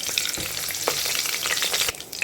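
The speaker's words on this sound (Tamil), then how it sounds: "இது எல்லாமே நல்லா பொரியட்டும்." Steady, close sizzling and crackling of whole spices frying in hot ghee, with occasional louder pops and spatters.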